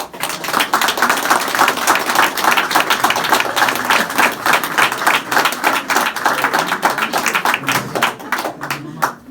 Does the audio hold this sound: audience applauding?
yes